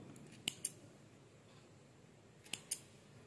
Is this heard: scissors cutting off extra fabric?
yes